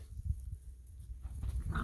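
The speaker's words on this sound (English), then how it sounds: "Who needs a TV when you watch puppies fight?" Guardian dog puppies play-fighting in a netted outdoor enclosure, giving low growls, scuffling and small yelps in a steady, close rough-and-tumble with no talking.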